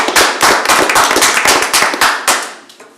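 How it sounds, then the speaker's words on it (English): A small audience at a city commission meeting gives a short burst of close, sharp, individually distinct claps that taper off after about three seconds. "Let's give those people a round of applause."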